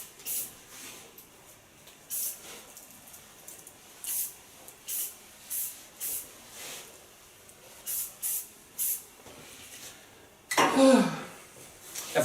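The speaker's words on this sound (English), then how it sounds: "Use a little bit flexible hairspray." Flexible hairspray hisses onto a hairstyle in a run of short, regular bursts close by, followed by a louder, longer spray near the end, with no talking.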